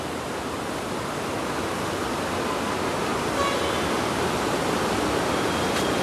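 The Alaknanda river flows at the Karnaprayag confluence in Uttarakhand, a steady, full rushing roar of water that stays constant throughout with no voices.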